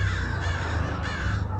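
A crow gives a loud, close, continuous harsh caw, rough and slightly wavering, heard alone.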